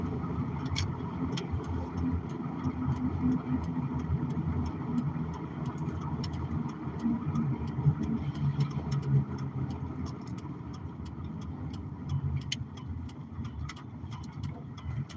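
A small car goes by on the road, its engine a steady mid-pitched hum that swells and fades over several seconds, with faint ticking and clicks, and no one speaking.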